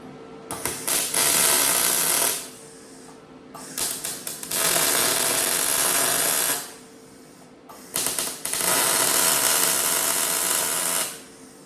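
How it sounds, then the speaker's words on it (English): A welder tack welding a homemade muffler, giving three long bursts of loud, steady crackling buzz, each lasting about two seconds, with short pauses and brief sputtering starts between them. "hopefully the welder isn't too loud. I'm just going to tack it on the inside"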